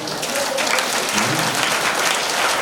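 An audience at a religious discourse clapping together, a dense, steady wash of applause that holds at an even level throughout.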